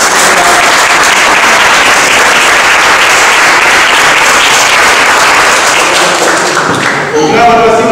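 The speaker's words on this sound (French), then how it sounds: "Donc on les applaudit bien fort." Loud sustained applause from a crowd at a fencing club's end-of-year party, a thick continuous roar of clapping that fades near the end as a voice starts to speak.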